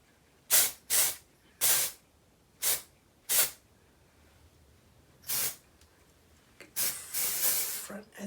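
Short hissing bursts of an aerosol temporary hair color spray can, five quick spurts, then one more, then a longer continuous spray near the end.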